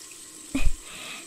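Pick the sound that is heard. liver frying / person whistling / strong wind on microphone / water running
water running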